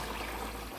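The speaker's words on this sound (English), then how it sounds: "so I'll be going in with my water and" Water is poured into a cooking pot of simmering chicken curry, a steady, fairly quiet rushing stream that runs without break for under a second.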